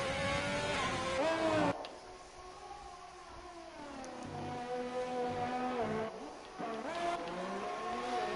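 Formula 1 race car engines in the F1 2020 video game at the Australia circuit whine and rise in pitch as they accelerate, with high-revving tones sweeping up and down in a loud, continuous roar.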